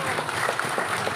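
Steady clapping from an assembled audience at a community organization's event in Abra, dense and continuous throughout, with a voice faintly mixed in.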